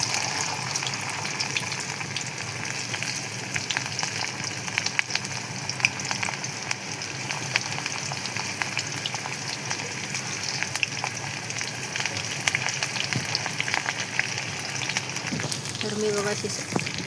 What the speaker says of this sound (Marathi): तर बघू शकता आपण आता मस्त अशी भेंडी तळत आहे आपली.